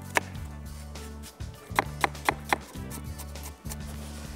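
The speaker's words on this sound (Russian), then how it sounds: "Теперь репчатый лук также нарезаем кубиком." Onion being diced into cubes on a cutting board, a series of sharp knife chops in quick irregular bursts with short pauses, close and fairly quiet.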